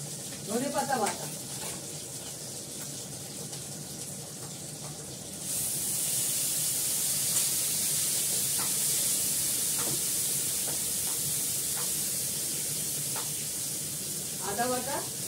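Coriander leaf paste fries in a pan with hot oil and fried tengra fish. A soft sizzle swells abruptly into a louder, even hiss partway through, with a voice speaking at the start and end.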